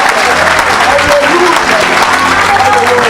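Audience in a church worship gathering applauding steadily, a dense, loud, sustained wash of clapping with some crowd voices mixed in.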